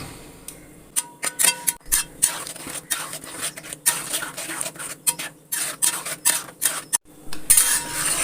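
A spoon stirs a mango mixture in a metal pan, giving rapid, close, clattering scrapes and clinks in irregular bursts over a steady simmering hiss, with a few brief pauses.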